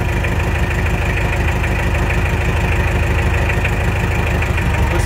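A cold ISEKI TA370 Japanese mini tractor with cab and loader idles close by, its engine holding a steady, even chugging throb without change.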